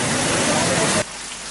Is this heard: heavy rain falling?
yes